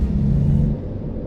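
A truck engine in the video game American Truck Simulator rumbles loud and steady in the low range, then settles to a softer drone partway through, with no speech.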